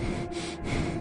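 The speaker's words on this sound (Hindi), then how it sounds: "कमरे में अब सिर्फ एक भारी सांसों की आवाज गूंज रही थी।" Heavy, ragged breathing fills a dark room as a horror story effect, a close, steady rasp that swells and fades without pause across the second.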